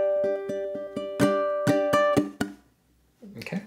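Ukulele melody from measure 11 into 12, fingerpicked notes and chords struck in a steady rhythm, bright and close, ending with a ringing strum before a short pause and some soft handling noise.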